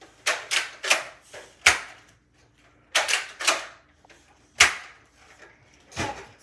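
A Nerf Elite 2.0 toy blaster is loaded with a series of sharp plastic clicks and clacks coming in irregular bursts, close and fairly loud, separated by brief quiet gaps.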